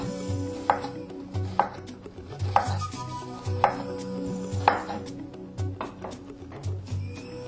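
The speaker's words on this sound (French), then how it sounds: "Maintenant, nous allons découper des oignons, également en tout petits morceaux." Onions being chopped into very small pieces with a knife on a board, a steady series of crisp, close thuds about every second, with a faint background hum.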